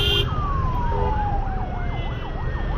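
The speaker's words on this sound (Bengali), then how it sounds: "অ্যাম্বুলেন্সটাকে যেতে দেওয়া দরকার" An ambulance siren wails in Dhaka street traffic near Elephant Road, a steady rising and falling tone that stays loud and close throughout, over low traffic rumble.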